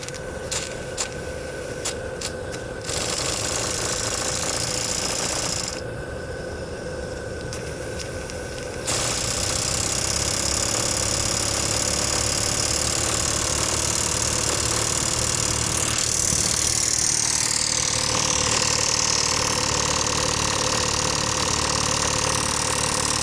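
An old Stuart double-action steam engine runs under steam from a test boiler, giving a steady, loud mechanical running noise and hiss that drops for a moment and then grows stronger as it speeds up, with no voices.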